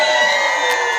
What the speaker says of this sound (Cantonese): 尖叫聲啊！